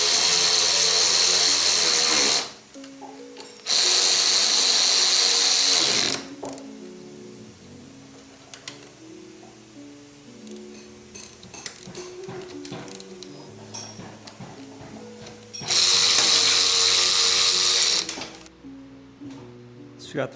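A ratchet tool tightens the wheel bolts on a Harley-Davidson motorcycle during a tire change. It comes in three loud, steady bursts of a few seconds each, with quieter workshop sounds between them.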